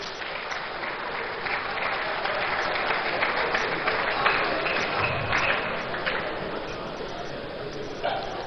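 Steady, dense applause fills a large hall at a labour meeting with a political leader, sustained and fairly loud throughout the stretch, with faint voices mixed in.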